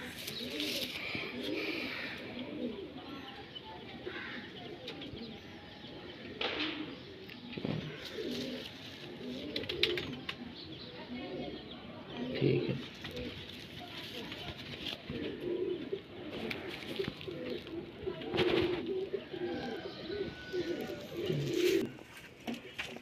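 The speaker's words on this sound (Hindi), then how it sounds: "ये कसूरी गोल्डन नर है, कसूरी मादी है प्योर।" Kasuri pigeons, a golden male and a pure female, coo repeatedly in soft low murmurs at close range, with occasional chirps and faint voices and background noise around them.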